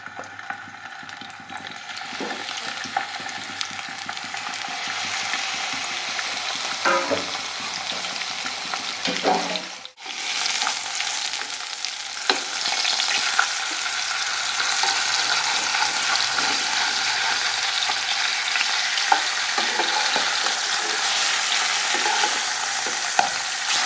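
Fish heads sizzle and spit in hot oil in a wok, making a dense, continuous crackle with occasional sharp pops and a brief quieter moment midway.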